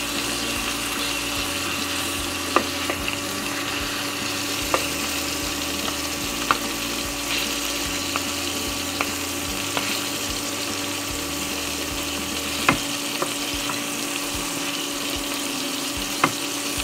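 Broiler chicken pieces frying in a pan make a constant, close sizzle, and occasional sharp clicks of a stirring utensil break through it at irregular intervals. No one speaks.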